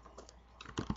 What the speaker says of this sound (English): I'm going to type in begin